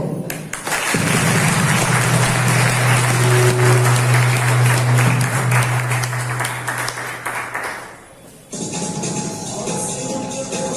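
Loud, sustained audience applause welcoming Usha ma'am to the stage at an RCM program meeting, dense clapping lasting about eight seconds before dropping off, with a steady low hum underneath.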